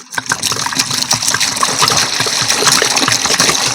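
Water gushing into a bucket, a loud close continuous splashing rush with turbulent gurgling that begins abruptly and stays steady.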